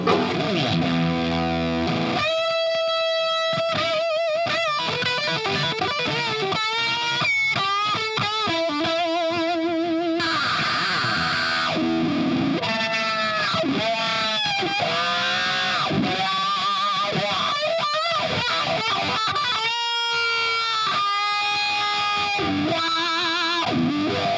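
Heavily distorted electric guitar through a Marshall amp playing loud riffs and sustained chords, with brief pauses between phrases.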